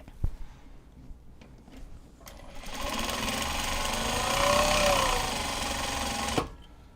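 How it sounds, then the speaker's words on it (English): A sewing machine whirs steadily for a few seconds of continuous stitching, preceded by a couple of small clicks and handling sounds. "Sewing machine goes brrr."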